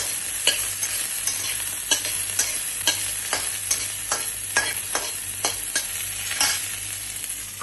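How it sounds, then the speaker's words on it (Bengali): Spices and onion fry in a wok while a utensil stirs in a regular rhythm, each stroke a sharp scrape over a continuous sizzle, repeating about a dozen times. "তারপরে একটু নাড়াচাড়া করবেন।"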